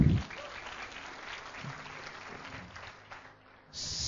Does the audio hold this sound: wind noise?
no